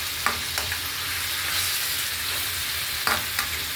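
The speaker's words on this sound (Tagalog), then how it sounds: "Para gisa-gisa muna natin mga idol." Chicken with crushed black pepper sizzles steadily in a pan, a soft continuous frying hiss broken by a few scraping stirs of a utensil.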